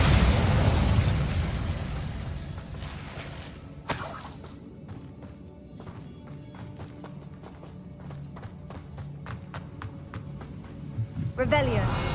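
Spell blasts in Hogwarts Legacy: a loud burst at the start fades out, then a sharp crack hits midway, followed by a run of rapid clicking impacts and another flurry of crackling at the end, with a voice casting spells.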